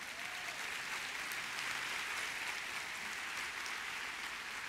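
A church congregation giving a loud round of applause to Jesus during a Spanish-language sermon: dense, steady clapping from many hands throughout, even in loudness and heard at some distance, with no talking over it.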